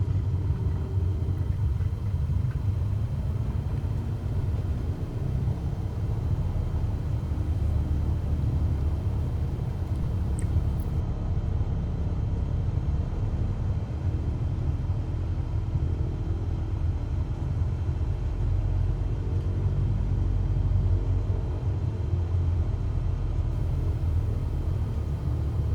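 A simulated aircraft taxis toward the ramp in Microsoft Flight Simulator 2020, giving a steady, loud, low engine rumble that holds constant throughout with no voices.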